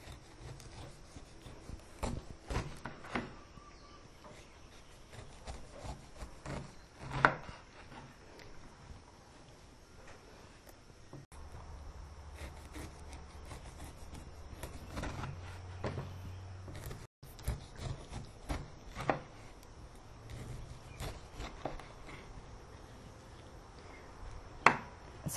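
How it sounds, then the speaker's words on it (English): A paring knife cutting through pineapple peel and prying out the bracts, producing scattered close crunchy chops and scrapes at an irregular pace, fairly quiet, with a low rumble in the middle stretch. "We're using a paring knife to remove the bracts after we cut the peel."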